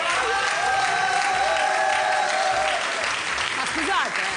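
Loud, sustained applause from a studio audience on a television show, steady clapping that fills the whole stretch, with voices audible over it.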